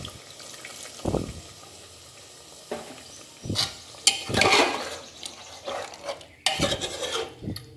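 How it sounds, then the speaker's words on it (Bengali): Onion-boiling water poured into a pot of Mughlai white mutton korma, a soft splashing pour with scattered clinks of pot and utensil, some bursts louder and closer, no talk. "এবারে আমি যে পেঁয়াজের জলটা যেটা রেখেছিলাম, পেঁয়াজ সেদ্ধর যে জলটা, সেটা দিয়ে দেব।"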